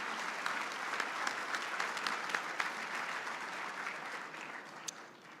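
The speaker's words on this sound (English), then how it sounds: "big round of applause" Steady, full applause from a conference luncheon audience, dense clapping that holds level for several seconds with no talk over it.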